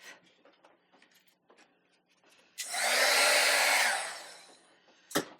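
A heat embossing tool blows with a loud, steady whoosh for about two seconds while melting embossing powder. Quiet handling taps come before it, and a sharp click follows when it shuts off.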